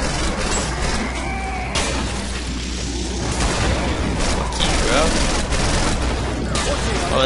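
Dense, continuous gunfire with heavy booms in Killing Floor, a zombie-shooter game, rattling nonstop at full loudness with scattered crashes, while a player's voice talks over parts of it.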